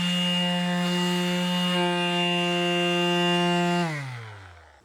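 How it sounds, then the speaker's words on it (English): Skil PowerCore 12V compact detail sander rounding over a wooden edge with high-grit paper, a steady close buzzing whine that holds evenly and then spins down as it is switched off; no talking. "that's the Skil PowerCore 12 compact detail sander"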